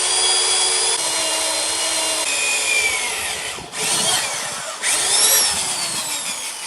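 A $5 Professional Series Black & Decker 3/8-inch variable speed reversible drill runs steadily and loud, its motor whine shifting pitch as the speed changes, with a short dip midway before spinning back up.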